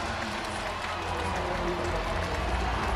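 A packed Washington hockey arena crowd of over 18,000 roars and cheers after Ovechkin's 802nd goal, a broad continuous wash of distant cheering and applause filling the space.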